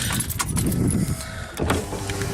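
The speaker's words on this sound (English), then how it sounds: "Window's going down, so the window works." A pickup truck's power window motor whirs steadily as the window goes down, over a low idling engine rumble, with a faint jingle of keys near the start; the truck is a lifted Dodge Ram.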